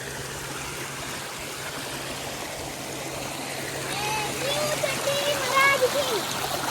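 Flowing stream water splashing and rushing near a waterfall, a steady broadband wash that grows slightly louder toward the end, with children's voices and chirpy calls faintly over it.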